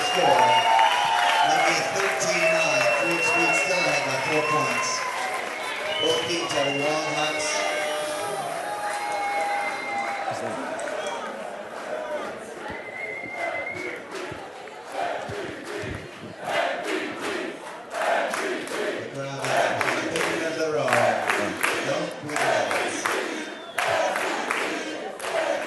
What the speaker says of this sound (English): Fan favorite as the crowd goes wild for that score.